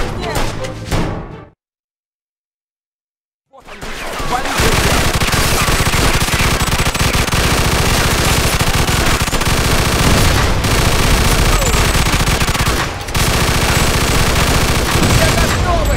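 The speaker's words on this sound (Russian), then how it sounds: "Хватит уже палить! Я и так оглох наполовину!" Automatic gunfire in the video game Mafia II, a loud continuous barrage of rapid shots after a burst and a brief silence, with overlapping fire throughout.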